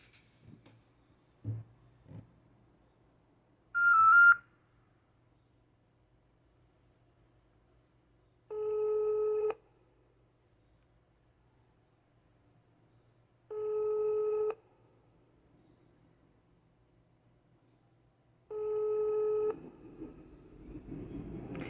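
A telephone call rings out as a repeating electronic ringing tone, three steady bursts about five seconds apart after some earlier clicks and a short higher tone, with faint noise between them.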